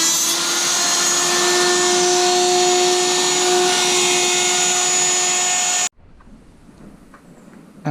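A router cuts a line into plywood along a guide track while bunk bed fronts are fitted in a skoolie. The loud, steady high whine runs for about six seconds, then cuts off abruptly, leaving quiet workshop noise.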